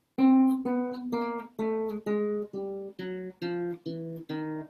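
A chromatic scale steps back down in half steps on a keyboard instrument, roughly ten clear evenly spaced notes descending one after another, each held briefly and played alone.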